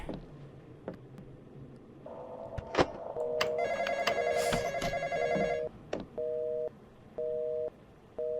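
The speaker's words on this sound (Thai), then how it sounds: "หลังจากสิ้นเสียงโทรศัพท์" A telephone rings in the Roblox game Intruder, played on hard mode: repeated electronic ringing tones in bursts, mixed with clicks and thumps, then regular evenly spaced rings that stop and start, fairly close and clear.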